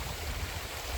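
A river in Monga National Park, New South Wales, flows with a steady, broad rushing wash, continuous and moderately loud, heard up close without voices.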